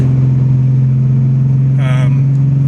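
A 2011 Mustang with a 3.7L engine and MT82 manual gearbox accelerating along a road, a steady loud low engine drone throughout with a brief higher whine near the end, and a person speaking over it.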